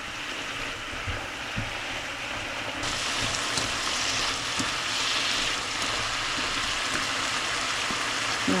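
Shrimp pad thai sautéing in a pan, a continuous hissing sizzle with light scraping and small clinks, growing slightly louder partway through, with no talk.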